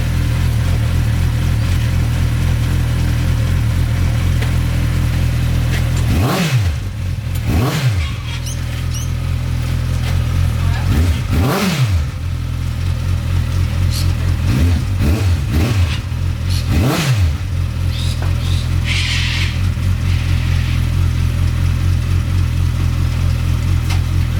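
A homemade go-kart buggy engine runs steadily and loud at close range, rising in several short revs over a constant idle drone, with no voices.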